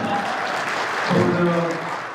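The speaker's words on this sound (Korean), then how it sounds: "박수 한번 부탁드립니다." Guests applauding at a book launch event as a council chairman is introduced, a crowd of clapping hands with a voice talking over it partway through.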